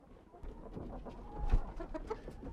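Silver-laced Wyandotte chickens, heavy brown-egg laying birds in a flock, cluck softly and intermittently at close range, with scattered short calls over a low background hum and no talking.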